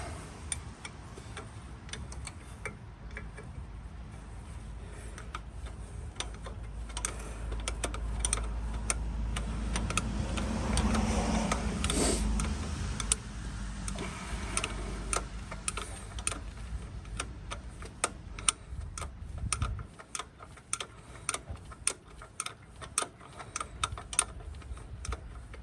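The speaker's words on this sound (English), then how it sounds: "we can do them up with a small torque wrench" A small clicking torque wrench tightens bolts on the front differential of a Land Rover Discovery TD5, giving a long run of sharp, rapid ticks and clicks at close range with no talk over them.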